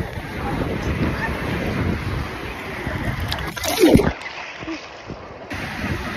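Sea waves wash and splash against someone standing in the water, roaring close under heavy wind buffeting the microphone, with one louder surge of water before the sound thins out.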